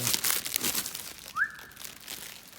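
Crinkly plastic protective film being pulled off a new glossy black car part in a garage, a rustling, crackling peel with a brief squeaky stretch midway, close and moderately loud, no talk.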